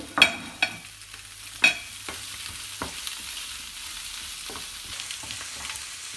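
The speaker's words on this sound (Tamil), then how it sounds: "எல்லாத்தையும் ஒன்றா போட்டு எண்ணெய் ஊற்றாமல் ஒரு 3 நிமிஷம் நல்லா வதக்கி எடுப்போம்" Onion, capsicum and spices dry-roasting together in a pan without oil, a faint low crackle under a few sharp spoon knocks and scrapes near the start, then quieter scattered stirring taps.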